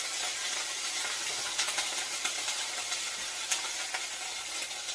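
Beef and garlic for beef lo mein fry in a hot pan, giving a steady, bright sizzle with occasional sharper pops and crackles.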